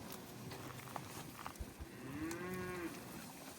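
An Akbas (whiteheaded) cow gives one drawn-out moo, clear and fairly near, rising over quiet farmyard background noise with no talking.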